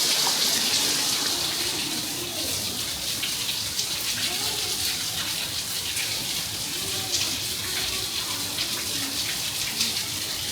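A small trickle of water at Bidulginang Falls in the Hantan River geopark, Pocheon, a steady soft splashing and dripping wash that runs without a break, with no talk.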